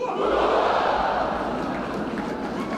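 A graduation audience shouts a loud, thunderous collective "whoa", a big sustained crowd roar that peaks early and slowly trails off over a few seconds.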